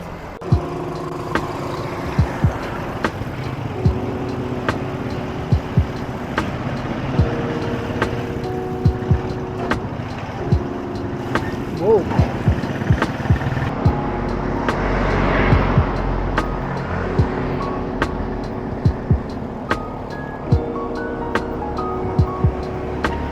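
Busy road traffic with many vehicles, engines droning and passing in a continuous rumble, with sharp clicks and bumps close by throughout.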